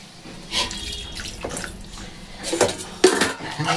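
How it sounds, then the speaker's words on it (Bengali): Water poured into a pot of khichuri with cauliflower, several short splashing pours and trickles, close by with a quiet kitchen between them. "জল দিয়ে দিলাম।"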